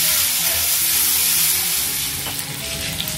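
Vegetables with salt fry loudly in a hot pan, a dense, continuous sizzle and hiss close up, with occasional scraping as they are stirred and no voices.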